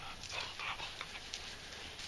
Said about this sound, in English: Come here, puppies.